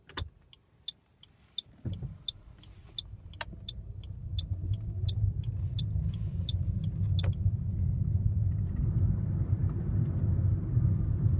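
A car pulls away and drives on with a steady low engine and road rumble that slowly grows louder, after some faint ticking clicks at the start.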